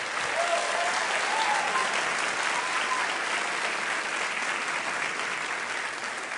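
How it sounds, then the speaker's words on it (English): A large audience at a borough address applauds steadily, a dense, sustained wash of clapping from many hands that holds at an even level throughout with no talking over it. "And while you're applauding"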